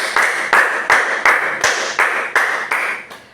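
Rhythmic, evenly spaced claps from a language class applauding themselves, about nine sharp beats in a slow chant-like pattern, close and clear with no talking.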